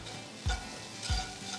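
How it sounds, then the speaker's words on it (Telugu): Onions fry in a pan with turmeric and salt, a low sizzle under two quick scraping stirs of a spoon, close and fairly quiet, with no talk. "ఉల్లిపాయలు బాగా వేగి రంగు మారిన తర్వాత ఇందులో 1 టీ స్పూన్ పసుపు, 1 టీ స్పూన్ ఉప్పు వేసి అంతా బాగా కలపాలి"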